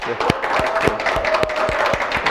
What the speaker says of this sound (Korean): 환영하고 그리고 또 축하하는 의미에서 박수 한번 같이 한번